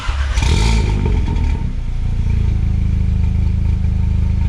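A tuned VW Golf R with a Unitronic Stage 2 tune, catless downpipe and resonator delete, in sport mode: a sharp, loud rev burst at the start, then a close, steady, throaty idle drone.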